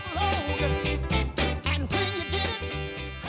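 A rhythm and blues hit plays loud and steady, with a driving beat, bass and a lead vocal line over brassy accompaniment.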